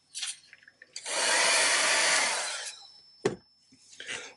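A hair dryer blows steadily for about two seconds, drying craft paint on a mixed-media moodboard project, preceded and followed by a few light taps and handling sounds close by.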